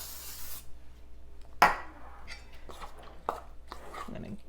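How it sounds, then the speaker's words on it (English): A brief hissing burst from a spray can of coconut or avocado oil coating a baking dish at the start, followed by a few light clinks and taps in a quiet room. "you're going to spray it with some coconut oil or avocado oil"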